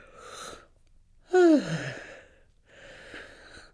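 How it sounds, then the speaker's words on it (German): A storyteller acts out a yawn in a Swiss German fairy-tale scene, one drawn-out voiced yawn with a falling pitch between softer breathy sounds, close and fairly loud. "Aber nach einer Weile hat er gegähnt."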